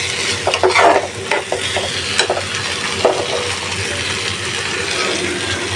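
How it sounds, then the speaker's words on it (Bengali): Spiced beef curry is stirred and braised in a pan, a loud continuous sizzle broken by scraping spoon strokes against the metal, with no talking. "সুন্দরভাবে ভালোভাবে কষায় নিছি"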